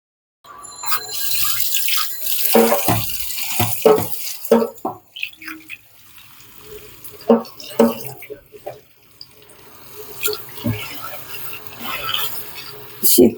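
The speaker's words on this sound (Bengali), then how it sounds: "আমি এখন ধুয়ে নিচ্ছি।" Leafy greens are washed under a running kitchen tap, with water gushing and splashing in irregular bursts and gaps as the leaves are handled, close and fairly loud.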